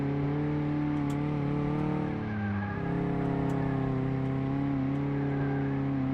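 A car engine in Car Mechanic Simulator 2018 holds a steady, droning hum with layered harmonics, dipping briefly before it picks back up, heard from an external view with no talk over it.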